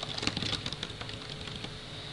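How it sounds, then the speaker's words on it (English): Computer keyboard keys tapped in a quick, irregular run, close and fairly soft, the clicks thinning out toward the end with no voices. "Notice as I was typing,"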